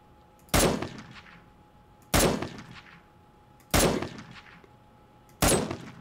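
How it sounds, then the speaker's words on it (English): Four evenly spaced, sharp gunshots ring out in 7 Days to Die against enemies, each a loud, close crack with a short ringing tail, about one and a half seconds apart and with no voices over them. "Now let's shoot these suckers."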